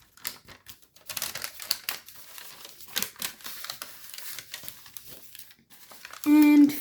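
Paper crinkles and creases as it is folded into an origami missile-armed jet, with close, irregular crackling and rustling bursts. A voice talks briefly, and a short tonal beep sounds at the end.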